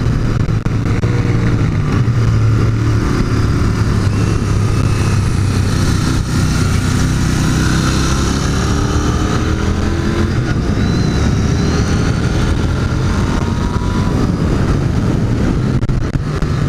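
Royal Enfield Continental GT 650 motorcycle engine cruising at high speed, around 160 km/h, a loud steady engine drone mixed with heavy wind rush, with no talk over it.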